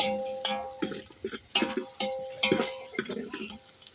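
Masala is stirred into reddish oil left over from frying vada pav in a pan before the mutton goes in, with a quick run of close clinks and scrapes from the spoon over a light sizzle.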